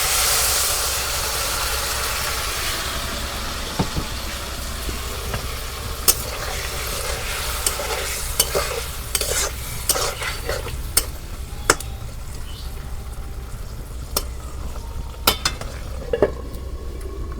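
Potato and tomato sauté in a pan for a spicy-sour pomfret curry, a soft continuous sizzle under a low steady hum, punctuated by sharp clinks and scrapes of stirring throughout.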